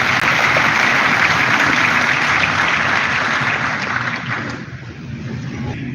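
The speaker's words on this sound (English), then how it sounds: "Let's give them the round of applause" An audience at an election results centre applauds steadily, a broad, even wash of clapping that holds for about six seconds and softens slightly near the end.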